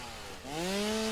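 A chainsaw in the video game Satisfactory revs up to a steady, loud buzzing drone that rises in pitch and then holds, alone with no talk.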